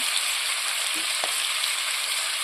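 Onion and garlic sauté in a hot pan with a steady, close hiss of sizzling oil, a brief stir or scrape partway through, and no speech.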